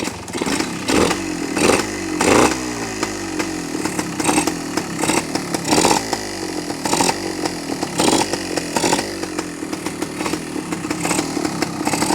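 A loud 1972 Yamaha AT2 motorcycle engine runs close by, chugging unevenly with repeated throttle blips and revs rising over a rough idle.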